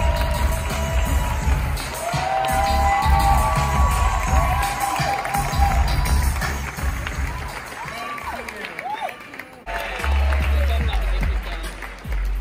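A crowd at the NAACP Awards claps and cheers, with whoops and shouted voices rising over a continuous roar of applause, briefly dipping before swelling again.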